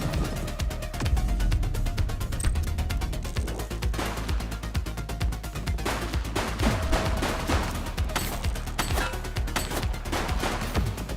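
Gunfire during a shootout in the video game The Precinct: dense, rapid bursts of shots crackling almost nonstop, loud and continuous, with heavy low rumble underneath and a few brief voices mixed into the clamor.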